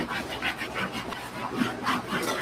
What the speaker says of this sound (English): we're gonna finish it out by rubbing it all in with a horsehair bristle brush